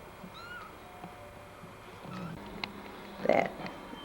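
A kitten gives a few thin, high meows against a quiet room, followed by a brief louder rustle, with a soft voice faintly in the background.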